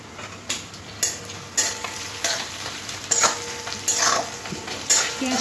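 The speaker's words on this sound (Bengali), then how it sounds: "পেঁয়াজটা ভাজতে ভাজতে পেঁয়াজের মধ্যে নুন দিয়ে দিলাম, তাহলে পেঁয়াজটা তাড়াতাড়ি নরম হয়ে যাবে।" Onions with added salt frying in a pan while being stirred, with close repeated scraping strokes about every half second over a continuous sizzle, loud and without talking.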